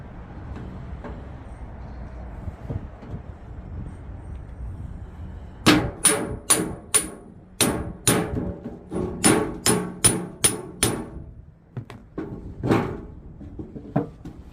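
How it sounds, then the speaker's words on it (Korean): A steel chisel is struck repeatedly with a hammer to punch a hole in a wooden piece for a traditional water-scooping tool, giving about a dozen sharp, ringing knocks in quick bursts after a quiet stretch. "자, 이거 정으로다가 구멍을 한번 뚫어볼게요."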